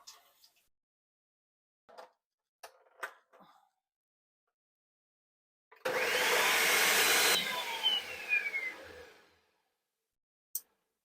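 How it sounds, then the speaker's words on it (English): A kitchen blender whirs loudly for a few seconds, blending cooked spices with a cup of tomato sauce for Salvadoran chicken tamales, preceded by a few short knocks and clatters, then winding down to quiet. "Now we're going to blend it with a cup of tomato sauce"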